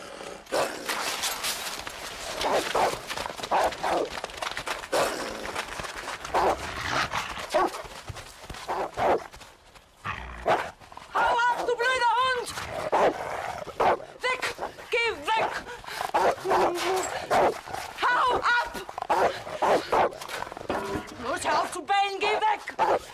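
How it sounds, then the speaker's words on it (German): A dog barks and whimpers in short yips and whines, mixed with clip-clop sounds and people talking nearby. "Das ist ein Hund."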